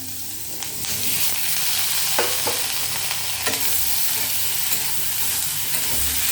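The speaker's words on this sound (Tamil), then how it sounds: "இப்போ நம்ம குடமிளகாவை போட்டுப்போம்." Capsicum fries with cumin in a hot pan, giving a steady loud sizzle throughout, broken by repeated scraping stirs of a spatula against the metal, with no talking.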